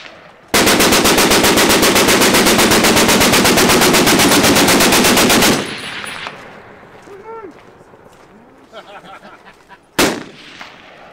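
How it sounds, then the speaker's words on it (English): A Browning 1919 A1 .30 caliber machine gun fires one long, loud, rapid sustained burst of about five seconds, followed by a quieter stretch with faint voices and one last sharp shot near the end. "That's a Browning That's 30 caliber, 1919 A1."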